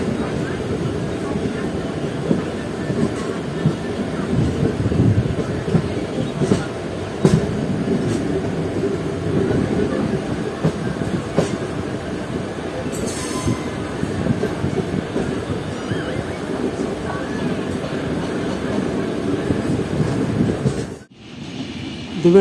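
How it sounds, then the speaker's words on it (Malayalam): The Ernakulam–Barauni Raptisagar Express rumbles past near Kollam, a loud, sustained roar of wheels and carriages with faint squeals, continuing steadily for over twenty seconds before a brief dip at the end. "ഇത് വെള്ളിയാഴ്ച ദിവസം ബറൂണിക്ക് പോകുന്ന എറണാകുളം ബറൂണി രാപ്തിസാഗർ എക്സ്പ്രസ് ആട്ടോ"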